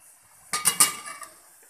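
A lid clatters onto a pot of cauliflower and potato curry, a short burst of two or three close metallic clinks and knocks that quickly fades, with no talking.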